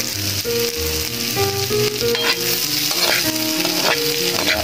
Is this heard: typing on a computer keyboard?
no